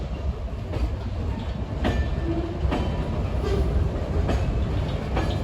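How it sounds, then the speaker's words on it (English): A Norfolk Southern freight train with a distributed power unit rumbles steadily past nearby on the Pittsburgh Line, with rhythmic clicks of wheels over rail joints repeating every second or so, no voices. "this train with the DPU is still working here in the yard"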